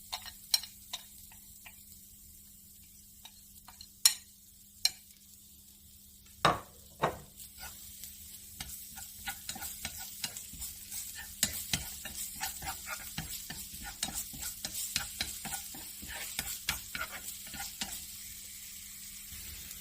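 Chopped garlic and lemongrass stir-fry in a pan, a soft sizzle punctuated by sharp clicks and utensil taps at first, growing into busier, steady crackling and scraping toward the end.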